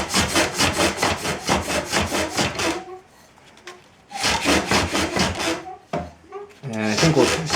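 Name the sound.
sanding wood on a pole lathe with 180-grit sandpaper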